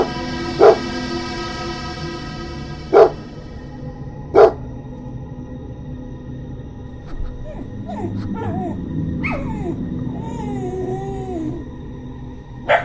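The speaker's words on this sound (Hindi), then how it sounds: "तभी वहां बैठे कुत्ते ने भास्कर के ऊपर भौंकना शुरू कर दिया" Three sharp, loud dog barks spaced a couple of seconds apart open a Hindi horror audio story, followed by eerie ambient sound effects and rising tonal swells, with no talking.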